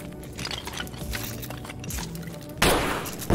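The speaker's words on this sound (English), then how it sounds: "Dang, you shot at me, bro." Gunfire in Escape from Tarkov, muffled shots and a busy rumbling game soundscape, capped by a sharp louder crack near the end.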